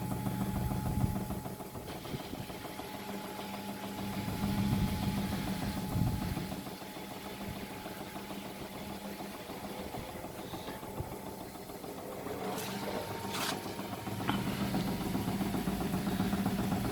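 A Samsung Bubble Wash 7.0kg WF1702XEC washing machine spins fast on a concrete floor, not sitting level, giving a steady mechanical hum and rattle with louder swells and a few sharper knocks over the full run.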